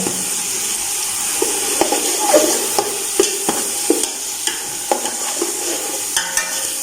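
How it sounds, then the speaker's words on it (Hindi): Onions for matar pulao fry in hot oil with a bright, steady sizzle, and a spoon stirs and taps the pan in a rhythmic series of close clicks. "अभी डाल देते हैं प्याज, ये करते हैं ब्राउन।"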